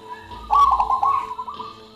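A zebra dove (perkutut) from the Pacarokan forest gives a close, clear cooing call, a single soft warbling phrase of a second or so with no voices around it.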